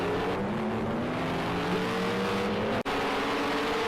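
Ginetta GT4 race cars from Project Cars 2 drone steadily, their engine tones rising together in a loud, continuous pack, with one brief dropout near the end.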